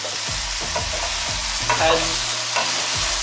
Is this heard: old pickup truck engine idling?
no